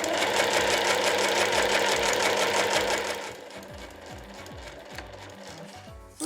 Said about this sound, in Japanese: 常に平らな状態にして縫っていきます。